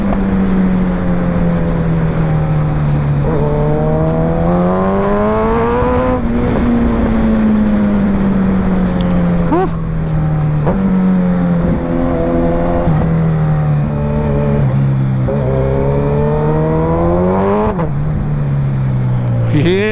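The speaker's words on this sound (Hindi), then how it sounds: "ये बाइक ऐसे शोर मचा रही है रास्तों में" A Suzuki Hayabusa motorcycle rides along an empty cement road, its engine droning steadily and loudly as it rises and falls with throttle changes, plus brief revving surges. A faint voice is heard at times under the engine.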